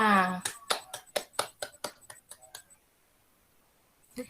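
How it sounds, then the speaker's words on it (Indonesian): Schoolchildren in a classroom clap in a burst of about a dozen rhythmic claps that speed up and then fade out, with a teacher's voice just before and a short sound at the end. "aplaus buat kita semua"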